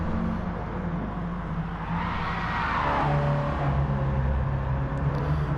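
Mini race cars circle the Monza circuit, their engines droning and whirring at a steady moderate distance, with one car swelling louder as it passes.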